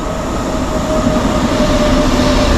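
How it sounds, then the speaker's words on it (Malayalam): A train rumbles steadily past close by, loud and continuous, with a faint tonal whine riding over the rolling noise. "ആ പോകുന്ന ട്രെയിന്"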